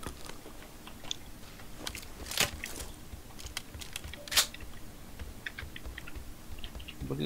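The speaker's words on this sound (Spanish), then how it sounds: "Ay, tan duro suena el teclado." Keyboard keys clatter loudly in bursts during a PUBG match, irregular clicks with a few sharp heavy strikes standing out above a quiet room background, and no talking.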